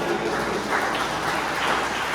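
A church congregation applauds together, a continuous, even wash of clapping hands that sounds almost like rain and holds at a steady level for the whole stretch.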